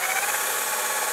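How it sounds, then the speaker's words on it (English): A power drill fitted with a countersink bit bores a pilot hole into wood, a steady, dense high-pitched whine and grinding held continuously and loud throughout with no pauses or voices. "Okay, let's go ahead and drill away."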